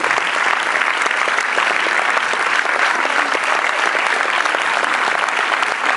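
A full audience applauds at the Paris premiere of the film Paris-Manhattan, a dense, steady wash of many hands clapping that holds evenly for the whole stretch, loud and close with no voices over it.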